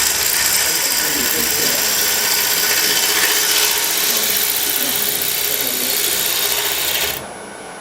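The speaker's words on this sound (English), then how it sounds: "I'm using a bowl gouge here, and since the grain is orientated at right angle to the bed," A bowl gouge cutting a wood bowl blank on a lathe, end grain at right angles to the bed, giving a loud continuous rasping scrape that drops off abruptly near the end.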